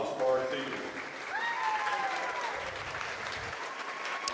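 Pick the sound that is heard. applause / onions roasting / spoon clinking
applause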